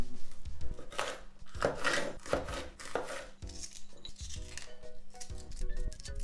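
A knife cuts shishito peppers in half on a cutting board in a home kitchen, giving a series of crisp, close chops and taps, some spaced, some in quick pairs, with no talk.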